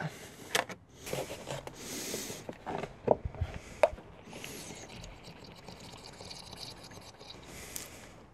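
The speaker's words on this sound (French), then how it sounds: "Et on va remplir. Donc il faut environ 4 litres d'huile." Castrol 5W40 engine oil pours through a funnel into the engine of a Seat Leon 1M 1.9 TDI, an uneven liquid glugging with scattered clicks and knocks from the bottle and funnel, close and moderately quiet.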